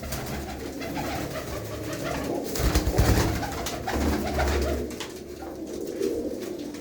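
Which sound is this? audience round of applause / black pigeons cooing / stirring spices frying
black pigeons cooing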